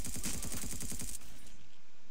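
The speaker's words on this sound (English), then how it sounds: "Shooting the gun." Rapid automatic gunfire from a weapon in the sci-fi survival video game Empyrion Galactic Survival, a fast even burst of about a dozen loud shots that stops abruptly, followed by a fading tail.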